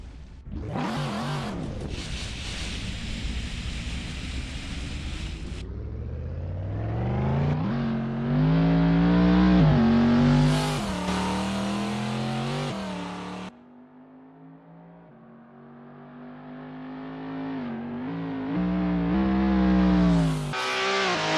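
A race car screams around Le Mans in the 1997 24 Heures du Mans in Assetto Corsa. The engine revs climb loudly through upshifts, then ease off and build again, with no voices over it.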